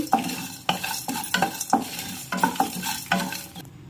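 Whole spices, peanuts and cashews frying in a pan, with repeated scraping stirs of a spoon against the metal over a steady sizzle, close and moderately loud, no talk.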